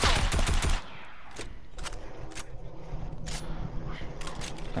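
Rapid gunfire bursts in Fortnite, likely a heavy sniper rifle, crack loudly in quick succession at the start, then fade into quieter scattered shots and game noise with a voice faintly underneath.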